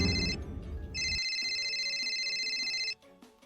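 A bright electronic phone ringtone plays, a repeating tonal melody that cuts off abruptly near the end, after a brief burst of low rumbling noise.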